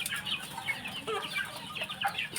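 Several chickens and chicks clucking and peeping close by, overlapping soft calls in an irregular, busy pattern.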